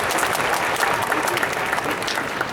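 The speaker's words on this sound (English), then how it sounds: "That requires applause, by the way." Applause from a graduation crowd during a commencement speech, a thick, continuous wash of many hands clapping, loud and sustained throughout.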